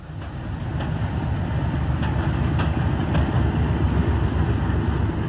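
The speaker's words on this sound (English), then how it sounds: "the power handle moved into first notch, the locomotive draws away to an easy start" A Class 31 diesel locomotive starts in first notch and draws away easily, a steady loud low engine rumble continuing throughout with faint periodic clicks from the wheels or couplings.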